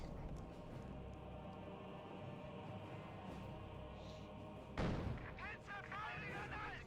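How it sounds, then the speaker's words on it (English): Mine explosions in the real-time strategy game Company of Heroes 2 burst out as a sharp, loud blast about two-thirds through, followed by rumbling debris over steady battle noise and distant gunfire. "Mines exploding."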